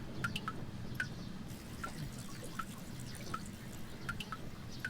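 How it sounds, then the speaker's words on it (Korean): Fermented persimmon vinegar, made from soaked meoksi persimmons in Jeongeup, drips steadily into a vessel: light, clear plinks roughly every half second over a soft, constant low background, with no voices. "감식초 떨어지는 소리가 찰랑찰랑한 게 아주 듣기가 좋아요."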